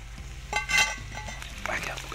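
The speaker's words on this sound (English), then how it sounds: "All right, so our water's boiling here" Water boils vigorously in a pot at an outdoor campsite, a steady bubbling, hissing roar up close with a few louder surges and no talking.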